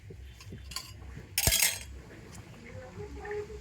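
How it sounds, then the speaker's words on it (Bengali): A spoon pressing soaked mango pulp and water through a large strainer, soft wet scraping with a sharp metallic clink near the middle, close and fairly quiet. "আর চামচ দিয়ে একটু এইভাবে করে নেব। এইভাবে করে নিলে খুব সুন্দর কিন্তু আমের পাল্পটা ছাঁকা হয়ে যাবে।"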